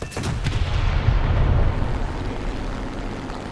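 Heavy artillery guns in the War Thunder game fire in a dense, continuous barrage of low booms with rumbling explosions, loud and sustained throughout without a break.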